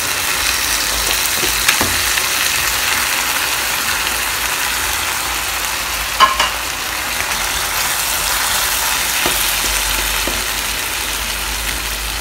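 Tuna flakes and tomato frying in a pan: a steady, loud hiss and sizzle throughout, with a few faint clicks and clinks of utensils.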